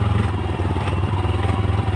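A farmers' motorcycle engine runs steadily nearby, a continuous low mechanical drone with a faint rattle and no clear pauses.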